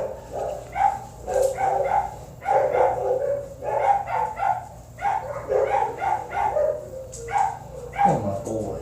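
A dog at the vet barks and yips repeatedly in short rhythmic bursts, close and fairly loud, with a few whimpery tones mixed in and some voices around it.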